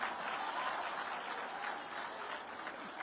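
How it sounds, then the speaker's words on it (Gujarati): An audience at a scholarship distribution ceremony in Gandhinagar breaks into applause, a dense, even patter of many hands heard from a slight distance that holds steady for a few seconds before easing slightly. "એના તાળીઓથી વધાવવો પડે."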